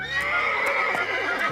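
A horse neighs as a sound effect in a Chilean radio drama: a loud, close, drawn-out whinny with a shaky tremolo, heard on its own without voices.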